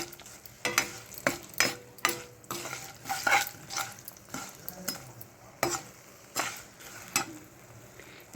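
Ingredients for a potato tomato curry stirred and fried in a pan, a soft steady sizzle under repeated sharp scraping and clinking strokes of a spoon against the metal, about one every half second.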